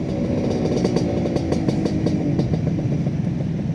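A Kawasaki Ninja RR two-stroke motorcycle engine runs steadily up close, its loud rumbling idle pulsing with a rhythmic throb and no voices.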